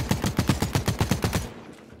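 Rapid automatic gunfire in The Cycle: Frontier, a dozen evenly spaced sharp shots in quick succession over about a second and a half, then a fading tail.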